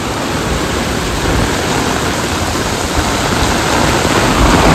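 Heavy rain pours down in Patan, a loud, dense and unbroken hiss that swells slightly toward the end, with no voices over it.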